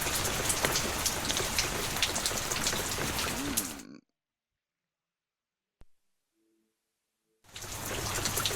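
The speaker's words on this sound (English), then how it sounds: "It's just rain." Steady rain falls on a surface for about four seconds, cuts to near silence with a single brief click, then resumes loudly near the end.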